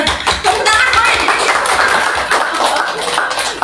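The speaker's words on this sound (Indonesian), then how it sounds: "Tepuk tangan ya." An audience at an Islamic talk claps steadily for several seconds, a dense patter of many hands with some voices mixed in.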